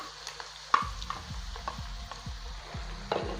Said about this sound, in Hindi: ऑयल गर्म हो चुका है, अब हम लोग ऐड कर देंगे प्याज।